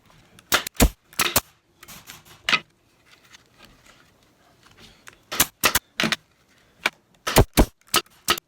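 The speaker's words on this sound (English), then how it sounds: "Secure it with some galvanized staples." Galvanized staples are driven into a wooden canoe seat frame with a staple gun, producing a series of sharp, loud, snapping clacks in irregular bursts with quiet gaps between them, heard close up without talking.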